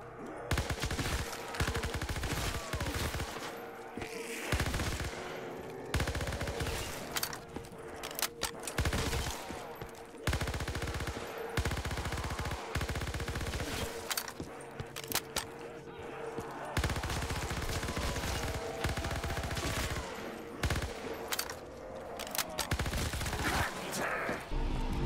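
Gunfire from an M1928 submachine gun in Black Ops 3 custom zombies, fired in repeated bursts over game music and effects, with someone talking now and then.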